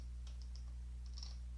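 Faint, quick keystroke clicks from a computer keyboard, typed in short bursts during an assembly-language lecture, sitting quietly over a steady low electrical hum with no talking.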